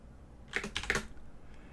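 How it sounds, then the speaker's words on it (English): A short burst of keystrokes on a computer keyboard, several quick clicks in a cluster lasting about half a second, fairly close and clear against a quiet room. "I'm getting tired of just typing this up."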